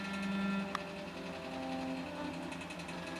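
A 1925 Singer 128 sewing machine runs steadily, stitching two layers of 100% cotton, a close, even mechanical whir with a small knock partway through and no talk.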